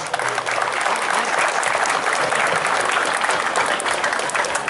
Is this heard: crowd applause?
yes